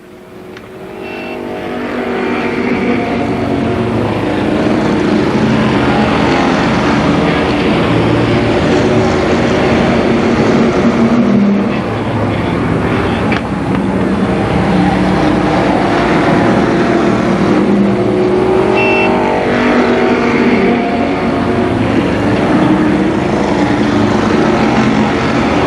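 Race cars lapping an oval at Columbus Motor Speedway in 1991, a steady loud drone of several engines rising and fading as cars pass, continuous with no pauses.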